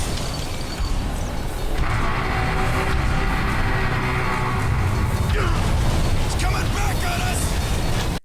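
The grind wheel sound cue from the video game Bulletstorm: a loud, menacing mechanical roar with grinding, booming bursts that swell and shift over several seconds, alone without voices.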